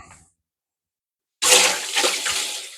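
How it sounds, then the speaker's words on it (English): Kitchen tap water starts abruptly after a moment of silence and runs steadily as a knife is rinsed under it, close and fairly loud. "Quick rinse of the knife."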